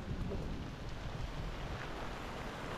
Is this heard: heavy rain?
yes